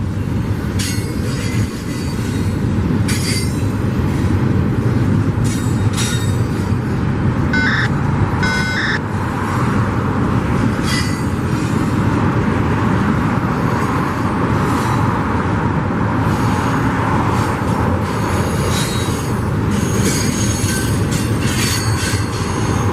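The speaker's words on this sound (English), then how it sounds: "the train's done gone. I see the last car's going away" A freight train rolls loudly and close over a railroad diamond crossing, wheels squealing in bursts above a steady rumble with rhythmic clickety-clack, continuing throughout without speech.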